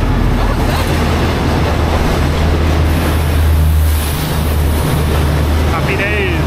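Third class train arriving at a station in Thailand, a steady low rumble and rolling drone with wind buffeting the microphone throughout, brief squealing tones near the end.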